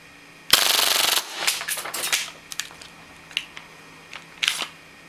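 An airsoft Glock 18C gas pistol fires a rapid full-auto burst lasting about half a second, followed by a handful of sharper single and double cracks, all close and loud against a quiet background.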